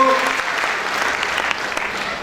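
Students in a classroom seminar break into steady, full applause, many hands clapping together at an even level from start to finish, with a brief tonal voice sound right at the start.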